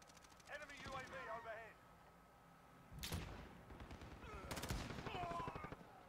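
Bursts of gunfire from a Call of Duty: Modern Warfare multiplayer match crack out in sharp, loud volleys around three and four and a half seconds, with a player's voice talking over the game before and between the shots.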